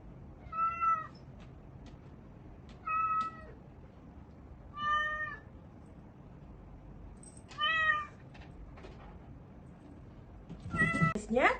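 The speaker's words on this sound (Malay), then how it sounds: "Kita dengar kucing." A cat meows alone, five separate calls spaced a couple of seconds apart, close and clear against a quiet background.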